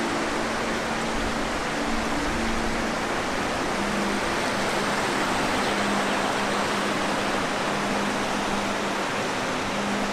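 A small mountain torrent in green, flowering Queyras alpine country rushes in a dense, even roar that holds steady throughout, with a faint low hum beneath.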